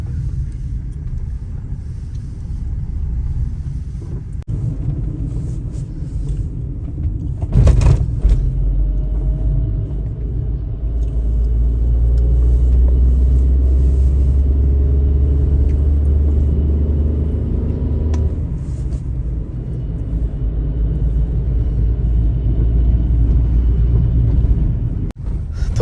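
A Tata Punch car with about 21,000 km on it drives over a rough road, giving a loud continuous low rumble from the tyres and engine, with occasional knocks and rattles breaking through the drone.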